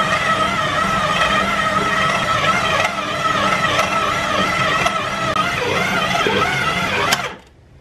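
A stand mixer kneads bread dough for Chilean marraquetas, a steady, loud motor whine with a rhythmic mechanical churn running unbroken, then cutting off abruptly near the end.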